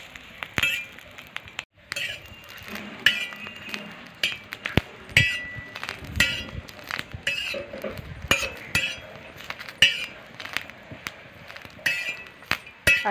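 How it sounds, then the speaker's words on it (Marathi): Green chillies dry-roasted without oil in a pan over a wood-fired stove, with sharp clinks and scrapes from the stirring utensil repeating irregularly against the metal, fairly quiet with soft sizzling beneath. "आता आपल्याला अशाच हलवत एकसारख्या मिरच्या ह्या भाजून घ्यायच्या आहेत."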